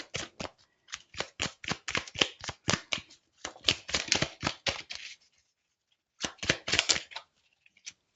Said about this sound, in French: j'ai envie de prendre le petit oracle de Kuan Yin. Alors, on va terminer avec une toute petite carte.